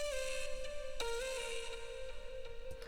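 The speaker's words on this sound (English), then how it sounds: "Here's the lead. The lead sounds like this." A bright future bass synth lead holds a sustained note, then glides to another pitch, with a wash of reverb and echo trailing behind, steady and upfront.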